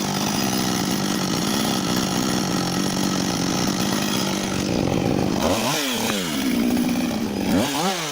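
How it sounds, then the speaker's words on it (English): A chainsaw roars steadily while felling a massive tree in the forest, loud and close, with the engine revving up and down in sweeping surges over the final seconds. "The roar of the chainsaw, the creak of timber"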